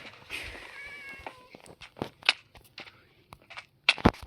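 A cat in a video game meows once clearly in a drawn-out, falling cry, followed by scattered soft footsteps and sharp scuffling impacts as it attacks the player, with no speech.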